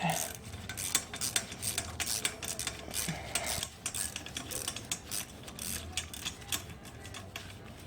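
A ratchet with a 10 mm socket and extension cranks a nut loose during an SSR 125 top-end teardown, giving rapid close metallic clicking in uneven bursts with light clinks.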